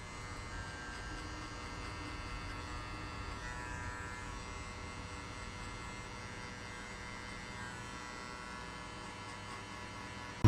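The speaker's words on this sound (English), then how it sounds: "I'm gonna jump straight away with the level open clipper" Electric hair clippers buzz continuously at a low, even volume, a steady droning hum with no breaks.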